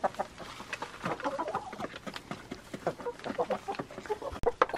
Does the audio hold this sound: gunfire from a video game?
no